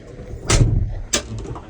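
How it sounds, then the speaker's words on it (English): A tractor cab door swings shut with a solid thud, followed by a second lighter clunk, close by amid farmyard background noise. "I'll shut the cab door."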